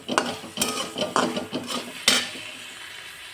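Hakka noodles are tossed with masala in a frying pan, with repeated spatula scrapes and knocks against the metal over a soft, continuous sizzle.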